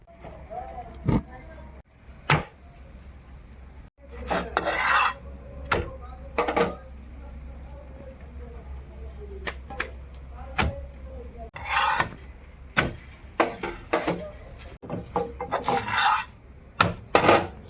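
Pea-stuffed paratha dough, a Bengali koraishutir paratha, being rolled out with a rolling pin on a board gives repeated rasping, rubbing strokes in short bursts, with pauses and faint background noise between them.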